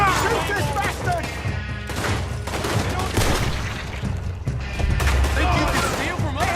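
Repeated gunfire in Red Dead Redemption 2 rattles through a busy shootout, with shots layered under shouting voices and continuous game noise.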